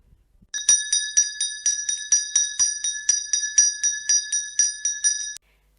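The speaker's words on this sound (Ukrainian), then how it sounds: "Так, це дзвоник." A bright bell rings about sixteen times in a steady, even rhythm, each strike clear and ringing, then it stops abruptly.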